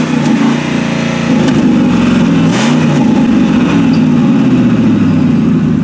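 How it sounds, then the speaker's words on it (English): A car engine with a leaking exhaust from rusted-out flanges idles loudly with a rough, throaty exhaust drone, the pitch wavering slightly as it runs close by. "As you can see, the exhaust is pretty loud."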